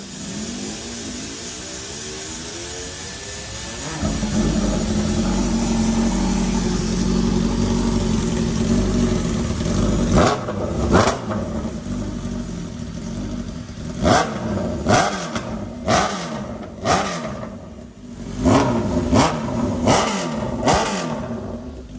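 A Honda CBR1000RR fitted with a new loud aftermarket exhaust starts up, idles with a deep rumble, then is blipped hard in a series of sharp, loud revs close to the microphone.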